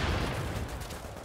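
Brief rattle of turret gunfire in the shooter game The Division, a rapid muffled burst at mid distance, fading slightly over about a second with no talk.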